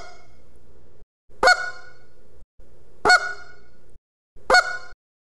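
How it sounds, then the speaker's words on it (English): A goose flute call blown in three short, sharp puffs, each honk snapping up to the higher second note, evenly spaced and close. "Put your baffle hand in front and just puff quick, sharp air into the call saying toot, toot, toot."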